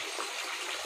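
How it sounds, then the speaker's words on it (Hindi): Water pouring from a solar-powered pump at a well outdoors, a steady splashing rush that stays even and fairly close for under a second, with no talking. "यह जो पानी है वो सोलर से आ रहा है"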